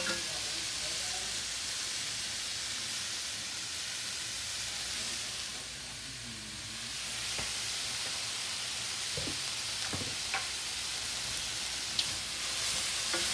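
Food stir-frying in a hot pan with a steady, loud sizzle and hiss, broken by a few sharp clacks and scrapes of a utensil near the end, with no talking.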